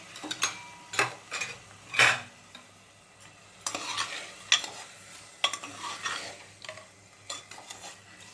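A spoon stirs a mix of washed moong lentils, masoor and rice in a pressure cooker for khichdi, making irregular scraping clatters and clanks over a faint sizzle, close and fairly quiet between strokes.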